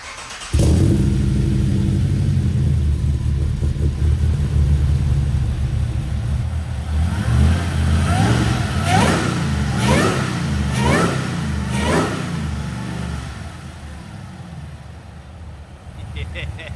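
A supercharged LS V8 swapped into a Nissan Patrol fires up for its first start, settling into a loud, steady rumbling idle before several sharp revs climb and fall midway, then easing back toward idle.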